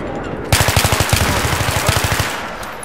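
Rapid automatic gunfire in a 5v5 competitive online shooter match, loud close bursts of evenly spaced shots over about two seconds with no talking.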